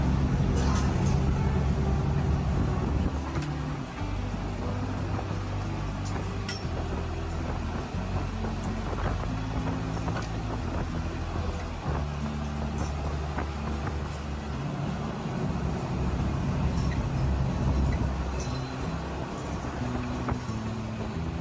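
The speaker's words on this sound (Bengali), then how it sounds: "যে পরিমাণে বাসটা যাচ্ছে ঝড়ের গতিতে" Steady, loud rumble of a Kalosona Dreamline bus speeding along the road from Kolkata to Digha, with constant engine and road roar and occasional rattles and clinks inside the cabin.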